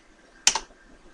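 A short burst of typing on a computer keyboard while entering a value in AutoCAD, two quick close keystrokes in an otherwise quiet room.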